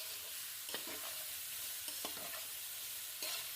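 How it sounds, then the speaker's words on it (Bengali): Vegetables for chow mein are tossed and stir-fried in a hot pan, giving a steady, hissing sizzle broken by a few scraping stirs, close and alone with no talk. "এগুলো দিয়ে ভালো করে টস করে নেবো, অর্থাৎ ভেজে নেব।"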